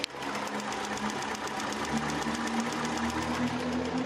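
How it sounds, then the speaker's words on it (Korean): A 2.7-litre V6 gasoline engine in a Kia K7 sedan runs at idle with the hood open. It gives a steady, even close-up hum with a faint rhythmic ticking, and no one speaks. "엔진 소음 먼저 들려드리면은"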